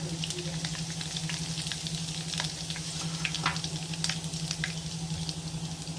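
Fennel seeds and spices fry in hot oil for a chicken roll, making a constant close sizzle with scattered crackles over a low steady hum.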